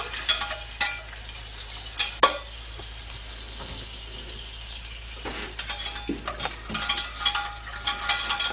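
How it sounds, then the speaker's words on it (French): Butter melting and sizzling in a pan for a poultry vol-au-vent sauce, a close crackling sizzle broken by repeated stirring scrapes and sharp clinks, quieter in the middle and busier toward the end, with no voices. "Alors, faire fondre le beurre."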